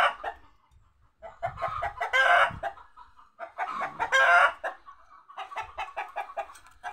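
A farmyard chicken squawks and clucks in agitated, loud bursts, two big flurries separated by quieter clucks, while it is being chased by a dog; no one speaks.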